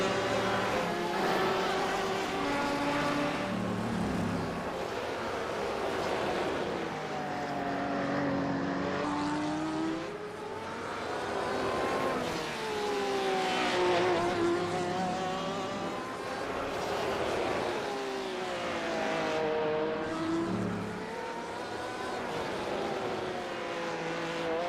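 Porsche sports sedan race cars in a sim racing game at Detroit Belle Isle roar past in a loud, continuous engine howl, with pitch sweeping up and down through gear changes and overlapping passes.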